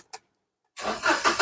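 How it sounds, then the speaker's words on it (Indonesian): A 2014 Toyota Agya 1.0 TRD Sportivo with manual transmission and about 104,000 km starts up: a short click, a pause, then the engine catches quickly and runs with a rough, pulsing idle, close by. "Oke, sekarang kita coba nyalakan mobil."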